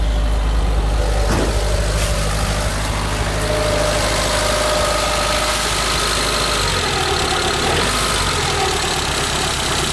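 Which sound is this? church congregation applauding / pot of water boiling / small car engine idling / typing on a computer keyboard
small car engine idling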